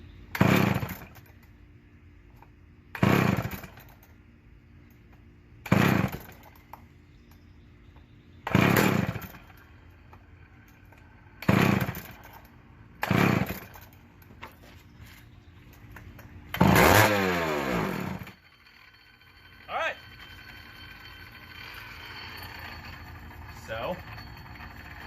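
Vintage chainsaw engine running with an elevated idle, revved in a series of about seven sharp bursts over a steady idle, the last rev held longer before the engine settles.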